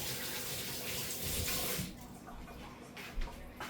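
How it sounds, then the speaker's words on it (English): Hands are washed under a running kitchen tap, a steady close splashing of water that shifts as the hands move through the stream and then thins out near the end. "so wash my hands"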